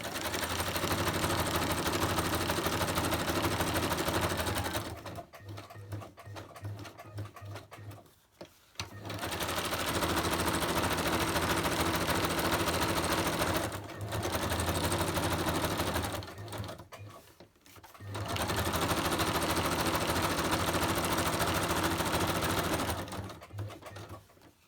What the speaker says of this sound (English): I want to zigzag around it.